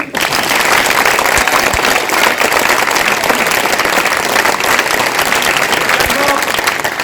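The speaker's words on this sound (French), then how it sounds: "On l'applaudit." An audience applauds after a theatre show, sustained loud clapping from a crowd with a few voices mixed in throughout.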